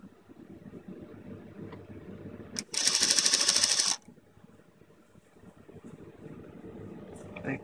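An electric sewing machine stitches together the fabric pieces of an elephant-shaped pincushion, giving one close, loud, even whirring burst of about a second, with quiet room noise and soft handling before and after.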